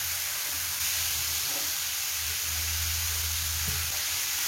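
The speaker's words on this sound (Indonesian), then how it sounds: "Dan ini saya tumis sampai sayurannya matang" Carrot and potato chunks sautéing with spice paste in a pan, a steady soft sizzle and hiss throughout, quiet and close with no voices.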